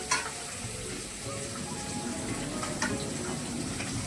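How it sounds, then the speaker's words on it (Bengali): Fish fry in a pan with a steady, fairly faint sizzle that runs throughout, with a few light clinks and no talking. "তো আপাতত এখন ভাজি মাছগুলো"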